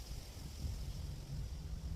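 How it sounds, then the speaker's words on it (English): Wind blows outdoors in a steady, low rumble across the microphone, with faint broadband hiss and no voices. "So, it's a bit windy."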